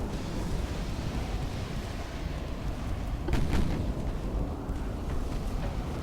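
Naval battleship gunfire in the video game Ultimate Admiral: Dreadnoughts, a constant heavy rumble of sea and distant cannon with a single louder boom standing out midway.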